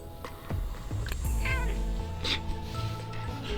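A pet cat rubbing against a microphone, causing loud low rumbling handling thumps, with a few brief meow-like cries over a steady hum.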